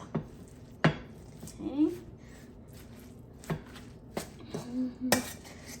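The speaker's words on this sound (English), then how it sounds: "mixing this one together, it's like getting your arm exercise that day" Pork and vegetable egg roll filling mixed by hand in a bowl, giving wet squishing and scattered clinks of utensils against dishes, with someone speaking briefly over it.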